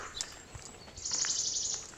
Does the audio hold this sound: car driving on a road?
no